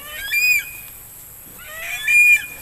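Two short bird calls from a chicken, a quick cluck-like cry near the start and another about two seconds later, fairly clear against quiet background.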